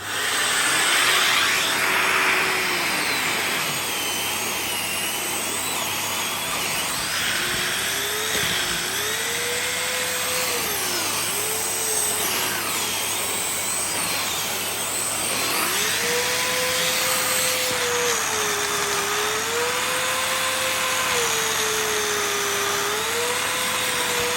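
A 2023 Dyson Ball Animal UP32 upright vacuum cleaner runs with its tangle-free turbine brush pulling up hair. Its motor gives a loud, steady whine whose pitch dips and climbs as the brush strains and recovers, with no talking.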